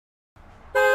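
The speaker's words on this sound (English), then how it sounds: "He honked his horn to gain Antonia's attention" Horn of a vintage 1993 Dodge Viper open-top sports car in racing red, a single loud sustained honk of about a quarter second, preceded by a low engine idle.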